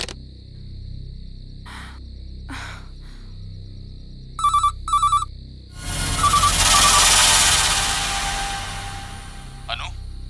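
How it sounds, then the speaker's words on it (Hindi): A landline telephone rings in repeated bursts, loud trilling rings in two quick pulses, followed by a louder stretch of background noise and clatter in an indoor scene. "इस लैंडलाइन पर रिपीटेडली कोई फोन कर रहा है"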